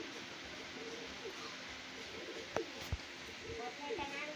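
Soft cooing of a golden teddy breeder pigeon in a loft, low murmuring calls under ambient noise with a couple of brief knocks, no clear speech.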